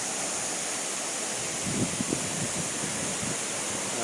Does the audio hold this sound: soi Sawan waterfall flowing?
yes